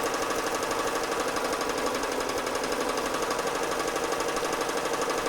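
An embroidery machine sews the final satin stitch on an appliqué design, giving a fast, even, rapid needle clatter that runs continuously and loud at close range, with no voices.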